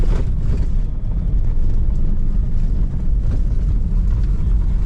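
A vehicle rattles and rumbles over a badly corrugated, heavily used sand track in Australia, with a loud continuous low-frequency roar and buffeting wind noise throughout and no talk.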